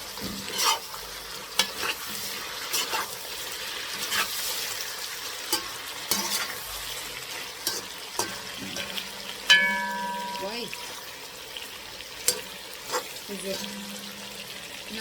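Plov is stirred in a big cooking pot, with repeated scraping and clattering of the utensil against the pot over a low sizzle, some splashing of water, and a person talking at intervals.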